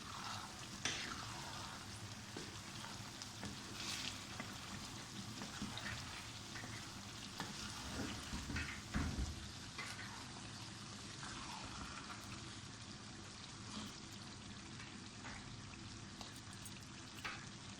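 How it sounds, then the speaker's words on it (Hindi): Chopped chilies being stirred into okra frying in a pan, a steady soft sizzle with scattered spatters and the scrape of stirring, fairly quiet and close, with no voices. "जो मिर्चें हमने रखी थी काट के, अब वो हमने डाल के भिंडियों को मिक्स कर लेना है आप इसमें"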